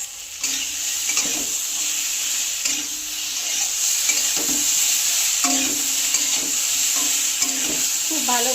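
Fried shrimp and spices, including red chilli powder, sizzle loudly and steadily in a pan while a spatula scrapes and stirs them in repeated strokes close up.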